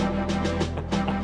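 An iconic sound effect from the 1997 N64 video game GoldenEye 007 plays as a dense, rhythmic electronic tone with pulsing bursts, loud and alone for about a second.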